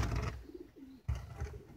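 An Opal pigeon gives a soft, close coo with a low warbling tone, briefly and fairly quietly, against a faint background.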